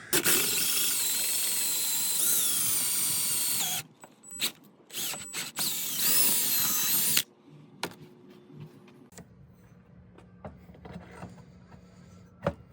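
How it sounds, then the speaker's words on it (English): Power drill boring out mounting holes to fit a shock absorber on a '57 Chevy during a budget lift kit install: a loud, steady whine for several seconds, then short bursts of drilling that give way to quiet shop noise. "we just gotta drill it out enough to make it fit that shock"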